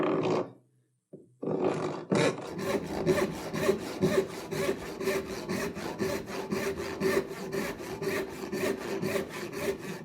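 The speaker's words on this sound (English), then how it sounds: "now all I have to do is use my rip saw and my saw bench to rip off this strip" A hand rip saw rips a strip off a wooden board on a saw bench: after a couple of tentative starting strokes and a short silence, a steady, rhythmic run of rasping push strokes repeats about three times a second.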